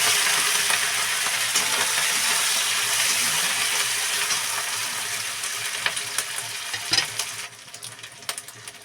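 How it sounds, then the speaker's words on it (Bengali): Cumin seeds fry in hot oil for khichdi, making a loud, continuous sizzle close to the mic, and then ginger is added, so the crackle drops toward the end and breaks into softer, uneven pops. "দেখো জিরেটা আমার লাল লাল করে ভাজা হয়ে গেছে এবার দেবো আমি আদা"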